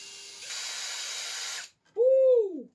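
Electric drill boring a hole with a brad point bit, a steady high whirring hiss for about a second, then stopping, followed by a short voiced sound.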